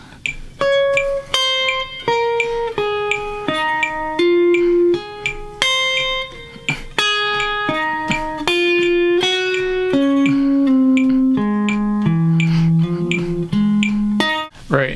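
A clean guitar picking single notes only on the third sixteenth note of each beat, a steady off-beat pattern, each note short and bright, stepping down in pitch over a loose rhythm.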